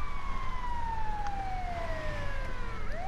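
Wailing emergency siren from a vehicle in a police role-play video game, its tone sweeping steadily downward and rising again near the end, loud over a dense engine and road rumble with no talking.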